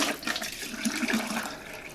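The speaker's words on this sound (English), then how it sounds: "we can add very hot water. We're going to fill those jars" Very hot water poured into empty canning jars set in a water-bath canner while making hot pepper salsa, a steady close splashing and gurgling fill lasting the whole stretch with no voices.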